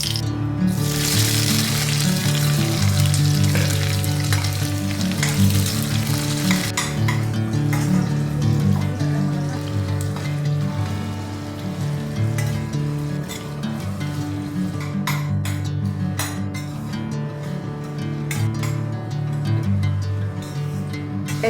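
Bay leaves, dried chilies, cinnamon, cardamom and cloves fry in hot oil for an Assamese chicken curry, giving a steady close sizzle with occasional spoon-and-pan stirring clatter throughout and no talking.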